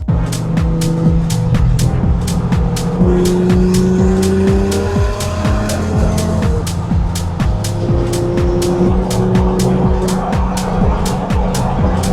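A Porsche 997 pulls away with a loud, close, continuous engine drone, layered with rapid sharp ticks and rising and falling engine tones throughout.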